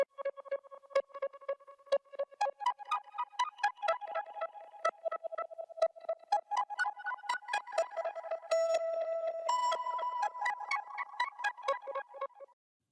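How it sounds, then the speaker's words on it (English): A bright pluck synth plays a syncopated melody, each note bouncing back through a ping-pong space echo delay. Repeats trail and overlap, with a brief sustained shimmer near the end. Moderately soft and without voices. "So on the effects layer, it's just this delay sound."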